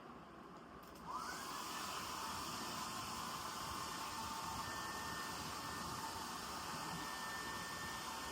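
Hair dryer blow-drying hair at home switches on and roars steadily, a close, constant whooshing airflow with a faint whine, no talking.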